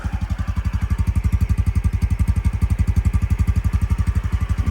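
A 2020 Honda CT125 fuel-injected scooter engine putters steadily at idle, close up, with a deep, even, rapid thumping rhythm throughout and no talking.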